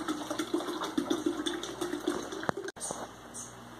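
Juice pours steadily into a container while a table is set, a continuous close liquid stream with a brief clink near the end.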